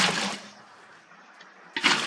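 In Minecraft, water is placed to fill a pool, with two brief splashing gushes, one at the start and one near the end, separated by a quiet lull and no voices.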